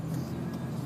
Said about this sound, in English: weird traffic going on.